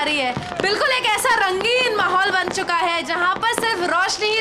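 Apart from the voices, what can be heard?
No everyday noise stands out behind the speech.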